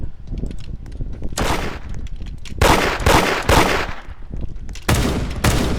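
Gunfire in the video game Da Hood comes in loud bursts of rapid shots, separated by short quieter gaps, with no speech over it.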